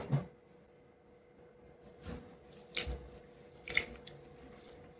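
Ration rice being washed in a sink under a faucet: soft trickling water with a few brief splashes and swishes, quiet and close, with no talk.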